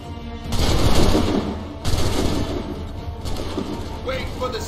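Musket volleys crack out in Assassin's Creed III, a massed burst of gunfire followed by a second sharp volley and scattered shots trailing off, loud and close with a low battlefield rumble beneath.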